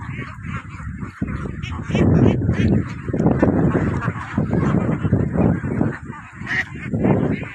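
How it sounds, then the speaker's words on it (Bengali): A large flock of about 1600 ducklings on a duck farm on a wide river island keeps up a loud, close, continuous mass of quacking and chattering calls, with some talk mixed in. "১৬০০ হাঁসের বাচ্চা একসঙ্গে"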